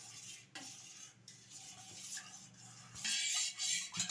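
Sugar being stirred into colostrum milk for a Seempal milk cake, a soft close scraping and swirling in a bowl that rises into a louder rubbing stir near the end, with no talking.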